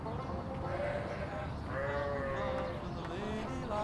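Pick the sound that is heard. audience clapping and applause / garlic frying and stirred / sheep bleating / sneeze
sheep bleating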